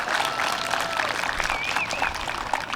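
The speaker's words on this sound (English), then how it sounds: "So give yourselves a round of applause." Graduates of the class of 2021 applauding at a high school graduation ceremony, a broad wash of clapping with crowd noise and some faint voices mixed in.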